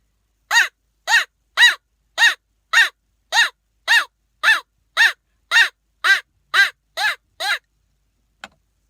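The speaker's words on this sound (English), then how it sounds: "The crow call." A crow-call sound effect repeats thirteen evenly spaced, harsh cawing notes in a steady rhythm, loud and close with silence between each, followed by one faint short blip.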